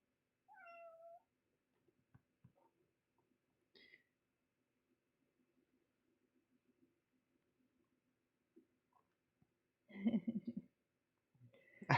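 A house cat meows several times, faint and close, with short chirpy calls between long quiet gaps and a louder burst near the end; soft talk is heard in the background.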